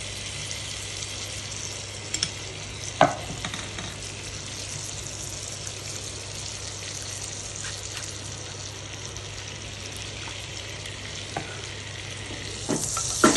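Garlic-flavoured butter and olive oil fry steadily in a pan, a soft continuous sizzle with a few light stirring clicks and scrapes, close and even throughout with no talking.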